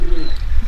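Pigeons cooing at a loft on a Belgian racing-pigeon breeder's property, a short, close, low throaty coo with a faint bird call above it.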